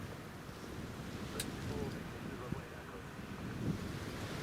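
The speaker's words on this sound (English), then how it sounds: "the wind's just picking up there a bit now" Gusty crosswind buffets across the open apron of Newcastle International Airport, a faint, steady rushing with slight swells in strength and no talk.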